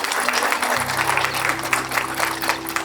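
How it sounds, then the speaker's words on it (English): Brief outdoor applause at a Mother's Day breast cancer charity walk, a crowd clapping steadily for about three seconds, with a low drone joining partway through. "Please give yourself a big round of applause for coming here today."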